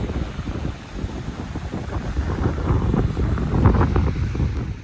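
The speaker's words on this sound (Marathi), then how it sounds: "तुम्ही एक सेकंद शांततेत ऐका समुद्राचा आवाज" Steady broadband rush of sea surf with gusts of wind buffeting the microphone, rising slightly toward the middle; no voices.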